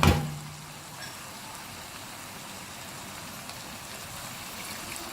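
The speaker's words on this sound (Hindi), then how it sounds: "अब हम पानी शामिल करेंगे।" Water pours steadily into a pot of egg biryani with a continuous rushing hiss, close by, after a brief clank at the start.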